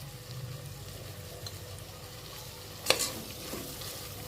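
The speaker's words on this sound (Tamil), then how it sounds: "இதையும் நல்லா போட்டு மிக்ஸ் பண்ணிக்கிட்டு கொஞ்சம் நேரம் நல்லா வதங்கிறதுக்கு விட்டோம்" Mint and coriander leaves sauté in a pan, giving a faint, steady sizzle, with one sharper scrape of stirring near the end.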